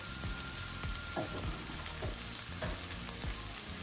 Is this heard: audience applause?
no